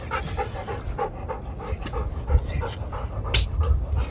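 A dog pants in quick, rhythmic breaths close to the microphone, with soft whimpery tones and light background noise around it.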